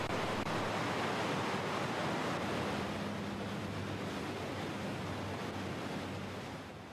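The Cuyahoga River's spring flow roars steadily through rapids, a dense broadband wash, loud and continuous, easing slightly at the very end.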